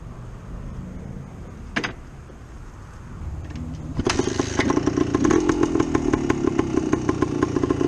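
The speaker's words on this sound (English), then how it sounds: "I'm gonna jump back on it, do a little more riding." A 1972 Yamaha DT2 motorcycle starts up with a brief burst, then settles into a loud, close two-stroke engine note with steady rapid popping as it is ridden, with no talking.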